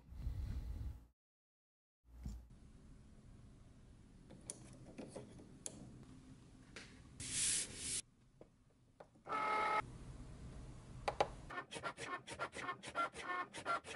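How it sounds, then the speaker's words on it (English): A Cricut-style cutting machine runs a scoring wheel across card stock to press fold lines for one-piece pop-up cards, giving dry scratching and ticking passes with short pauses, then a quick run of rapid clicks near the end. "with the scoring wheel, we created the lines where the folds would go"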